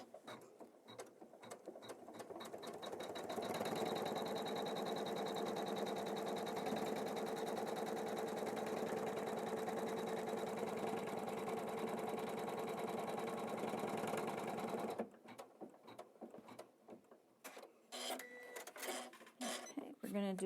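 An embroidery machine stitches a tree design in a rapid, steady mechanical chatter that runs loud for about twelve seconds and then stops, leaving clicks and handling sounds as a voice talks.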